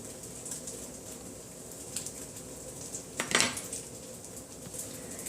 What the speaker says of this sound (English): we're just going to open them up and butter them